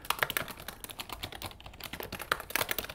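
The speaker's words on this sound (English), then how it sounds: "little extra typing there on the Dreaminator 2000" Rapid, uneven keystrokes on a computer keyboard, close and fairly quiet, clicking steadily for a few seconds with no voices.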